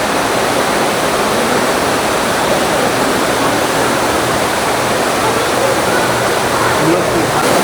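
A waterfall inside an aquarium's otter habitat gives a steady, loud broadband rush of falling water that stays even throughout, with soft voices faintly mixed in.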